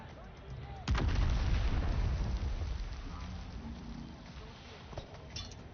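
A grenade explodes in Dune Awakening with one loud sudden blast that rolls into a long rumbling decay. A fainter thump follows later, and voices talk in the background.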